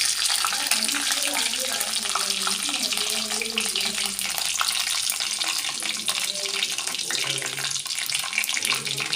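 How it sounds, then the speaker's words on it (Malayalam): Mustard seeds tossed into hot coconut oil, a dense continuous crackling and spluttering that stays loud and even throughout, with faint voice-like tones underneath. "കടുക് ഇട്ട് കൊടുക്കാം കടുക് ഇട്ട് കൊടുക്കാം"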